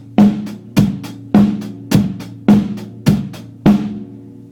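Drum kit groove with seven strong, evenly spaced hits, bass drum on every beat with snare and steady hi-hat layered on top, played close and loud with no talking.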